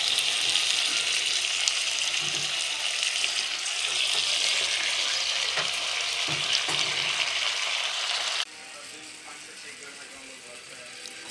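Spinach added to a pan of fried potato, cauliflower, aubergine and stalks crackles in a continuous, fairly loud sizzle for several seconds, then drops abruptly to a quieter hiss.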